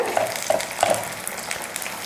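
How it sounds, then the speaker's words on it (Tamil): Potato and leftover idli snack pieces frying in hot oil, a steady soft sizzle with a few brighter crackles near the start, heard close and alone with no talk. "இப்போ இதை எண்ணெயில் பொரித்து எடுத்துக்கலாம்"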